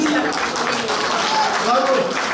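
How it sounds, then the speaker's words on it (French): Applause from an audience at a cosplay contest at a sci-fi fan convention in Auxerre, a steady close wash of clapping with crowd noise and voices mixed in. "Vous pouvez applaudir."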